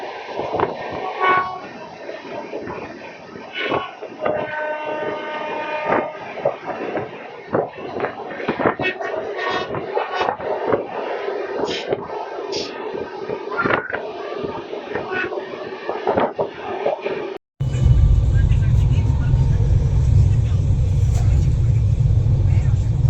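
The Kumbh Express passenger train running through Bardhaman station, a busy rumble with clanks and knocks beneath voices, then a sudden switch to a loud, steady low roar of the wheels on the track.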